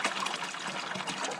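Water pours steadily into an oil pan from a 1947 Ford flathead engine, a continuous close splashing trickle that holds at even loudness without pause.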